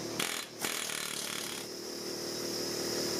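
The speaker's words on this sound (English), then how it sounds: "I began hammering the metal center ring of the coil assembly" Harsh, continuous metallic hammering from an air hammer on the metal center ring of a John Deere X320 pulley coil assembly, loud and steady with a brief dip near the start and a high whine later.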